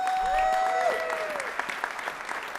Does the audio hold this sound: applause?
yes